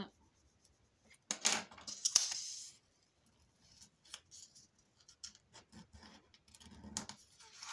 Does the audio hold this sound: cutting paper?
yes